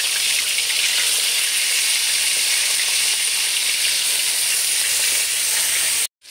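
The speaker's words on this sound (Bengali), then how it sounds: "এখন কড়াইতে তেল গরম করে মাছগুলো দিয়ে দিচ্ছি।" Pond fish fry in hot oil in a kadai, giving a loud, continuous, close-up sizzle and hiss that holds steady before cutting off abruptly near the end.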